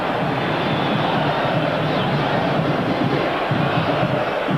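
A football stadium crowd at a 1986 Oklahoma at Colorado game cheers after a 15-yard run. A broad, loud, sustained roar of many voices is heard with no break.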